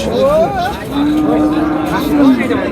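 Pregnant Sahiwal cow at a cattle market, lowing in one loud, close, drawn-out moo that rises and falls, with faint market chatter behind it.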